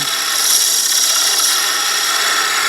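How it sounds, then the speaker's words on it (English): Spindle gouge cutting a wooden vase on a lathe, a steady, bright hissing scrape of the tool against spinning wood, loud and close with no talk. "working with my spindle gouge and there we go."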